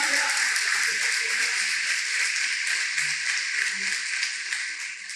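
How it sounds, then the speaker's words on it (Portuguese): A church congregation applauds steadily, the clapping blending into an even roar that fills the hall and fades slightly at the end. "Pode aplaudir Jesus."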